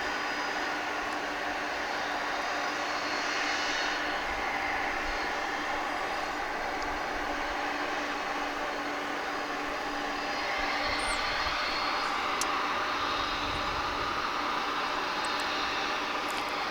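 A UPS cargo plane at DFW airport gives a distant, steady jet engine roar that holds for the whole stretch and swells slightly near the end, with no voices.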